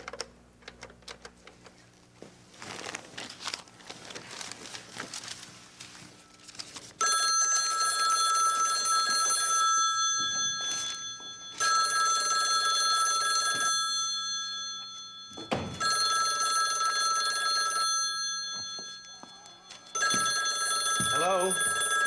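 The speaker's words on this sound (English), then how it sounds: "Phone's ringing." A telephone rings in bursts of a sustained bright electronic bell tone, loud and near, with people talking and muffled clatter between the rings.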